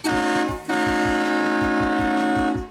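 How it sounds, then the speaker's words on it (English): A loud, steady truck-mounted train horn blast holds for nearly three seconds over a rhythmic low thumping, with a brief dip partway through. "Yeah, fire off the train horns."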